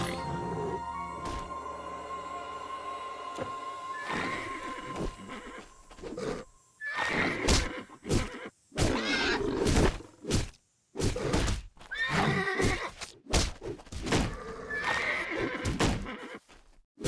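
Horse whinnies and neighs from the video game Titan Quest, several sharp bursts spaced across the stretch, mixed with clip-clop hoofbeats and thuds of in-game combat, fairly close and loud.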